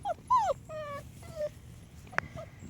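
Puppies whimper and yip in a close, quiet room: several short, high, whining cries in a row, then one sharp yip.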